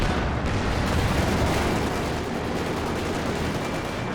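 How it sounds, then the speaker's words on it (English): A heavy mortar barrage in Company of Heroes 2, a 2v2 match, as a loud, dense, continuous roar of blasts and gunfire, with no talk over it. "But that heavy mortar barrage just blasting away"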